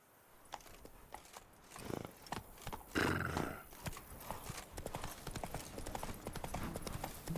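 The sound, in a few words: Geralt's horse Roach in the video game Witcher 3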